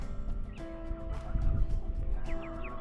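Chicks hatched in January calling in a busy coop, with short chirps and clucks, a few sustained tonal calls, and low rustling and thumps underneath.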